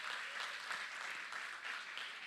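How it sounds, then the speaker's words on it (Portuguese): A church congregation claps during a service, a soft, distant wash of many hands that swells slightly in waves and holds steady throughout. "Você pode aplaudir ao nome do Senhor."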